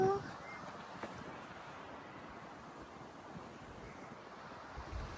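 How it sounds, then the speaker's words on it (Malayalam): Steady, loud wind buffeting the microphone on a seaside cliff in Wales, with a constant roar of surf below, continuous and unbroken throughout. "നല്ല കാറ്റുണ്ട്, ചെറിയ തണുപ്പുണ്ട്"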